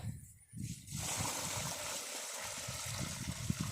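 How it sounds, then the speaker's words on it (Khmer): Water is poured in a steady, hissing, splashing stream, close and continuous, filling nearly the whole stretch with a rough rushing wash outdoors. "ឡូវនេះចាំខ្ញុំចាក់ទឹកហេះ"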